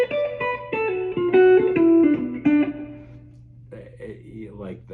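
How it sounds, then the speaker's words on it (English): Electric guitar run through a reverb pedal set for a small bathroom-like room, a quick run of picked notes with a short, boxy ambience, then quieter, sparser tones at the end. "this is the sound of you singing in the bathroom."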